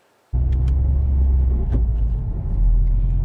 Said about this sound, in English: Clutch in, release the clutch slowly, apply throttle.